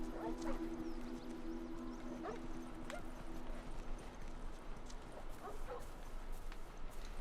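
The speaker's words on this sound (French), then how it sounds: "Oh, des chiens." Wild dogs in the video game The Last of Us, heard as scattered faint barks and yips over a steady hum of game ambience, with clip-clop-like footsteps, at moderate distance.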